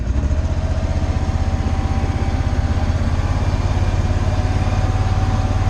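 A lawn mower cutting grass along roadside ditches beside newly installed landscape edging, a steady, loud, continuous engine drone with a fast pulsing throb, close by and with no talking.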